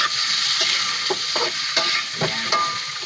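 Tomato sizzles in a hot frying pan while a spatula stirs it, steady frying hiss broken by several distinct scraping and clacking strokes against the pan at irregular intervals.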